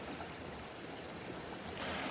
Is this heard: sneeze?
no